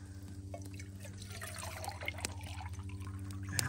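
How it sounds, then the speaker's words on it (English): Water poured from a container into a pot set over a small campfire for pine needle tea, a steady close trickle with light drips running the whole time. "put a little water in here."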